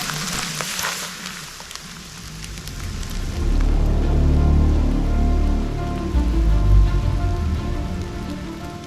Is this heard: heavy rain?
yes